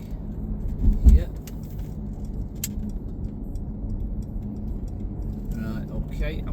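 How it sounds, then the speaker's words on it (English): A Mercedes-Benz E220d AMG Line 2.0 diesel with G-Tronic+ automatic drives round a roundabout, its low, steady cabin road and engine rumble continuing beneath someone talking, with a few small clicks and rattles. "Going round the roundabout all the way round, and then we're going to get to 70 miles per hour down the dual carriageway here."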